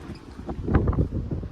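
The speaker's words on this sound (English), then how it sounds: "Excuse the wind." Wind buffeting a microphone outdoors beside a rusty 1972 VW Beetle, a brief low rumbling roar of gusts with soft thumps, fairly loud and steady throughout.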